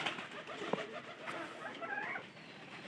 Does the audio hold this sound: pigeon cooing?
yes